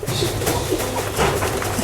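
Rajshahi Giribaz pigeons coo close by in a continuous, overlapping stream of soft throaty calls.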